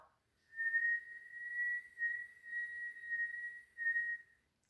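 A steady, high whistling tone from a person inhaling through the mouth comes in a series of sustained breaths, about five in a row with short gaps, close and fairly loud.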